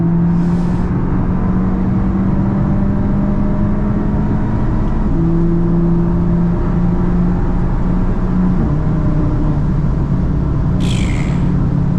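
A tuned VW MK8 GTI with quick-shifting transmission accelerates hard, a loud steady engine drone rising in pitch through a shift around five seconds, heard from inside the car with no talk.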